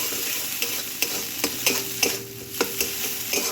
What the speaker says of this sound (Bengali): দেখুন, মশলা ভাজা ভাজা হয়ে গেছে, তেল বেরিয়ে যাচ্ছে।